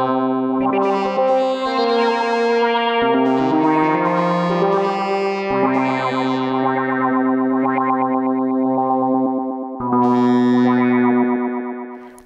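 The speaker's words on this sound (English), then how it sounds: "Finally, I'm going to add a compressor in slot 3. Give the sound a little bit more definition." Arturia CZ V phase distortion synthesizer with a compressor plays sustained, buzzy chords and notes in clear phrases, bright and upfront with a slight echoing tail, alone without talk.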